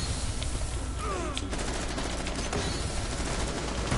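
Rapid automatic gunfire in the Rainbow Six Siege video game, a dense burst of close shots in the opening second and a half followed by scattered further shots amid game noise.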